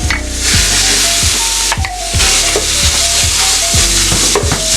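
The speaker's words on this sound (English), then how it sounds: "then we're gonna put in our sweet Italian sausages" Sweet Italian sausages sizzle loudly in a hot pan, a steady close crackle with a few clunks and scrapes as they are stirred.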